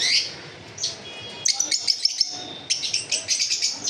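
Pet lovebirds, java sparrows and cockatiels for sale chirp in bright, quick bursts: a lone call, then busy clusters of close tweets, with no talk.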